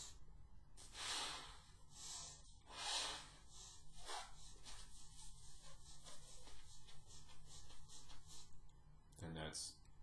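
Circular breathing practice for didgeridoo, with air pushed out by pressing the cheeks: a series of close puffs, snorts and breaths in an irregular rhythm, with soft clicks between them.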